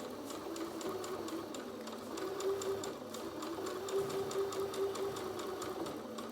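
A sewing machine stitches across a zip in fabric, a steady close whirring hum with a fast, even needle clatter running unbroken throughout.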